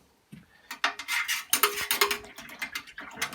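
Fairy liquid cleaning solution for carburettor parts is stirred in a metal container, giving a rapid series of clinks and scraping taps, close and fairly loud with no talking.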